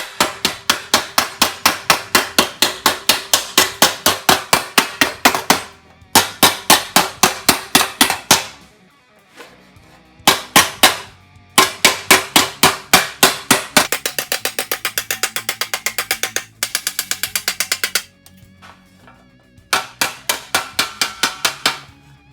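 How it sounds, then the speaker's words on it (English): Sheet metal for a Duster's underfloor seat pan is pounded into shape with a socket and hammer, giving rapid runs of sharp, ringing metallic blows broken by short pauses; close and loud with no talk. "Need to pound this down, so I just use a socket and just kind of come around here and just kind of form it."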